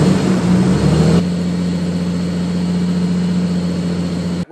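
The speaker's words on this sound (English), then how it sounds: "You heard me revving it there." Engine of a Jeep Cherokee XJ running after a radiator replacement, a loud steady hum that is heavier for the first second, as if briefly revved, then settles to a constant idle drone with no talk.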